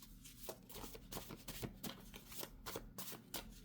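Tarot cards shuffled up close, a quick run of crisp riffling flicks and soft slaps repeating in short bursts, with no voices.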